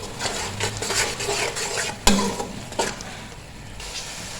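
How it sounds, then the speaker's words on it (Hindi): Masala with tomatoes fries in a pan, giving a steady low sizzle under scraping and stirring with a utensil and one sharper knock against the pan. "और मसाले को अच्छे से भून लेंगे इतना कि हमारे जो टमाटर हैं ये सॉफ्ट हो जाए"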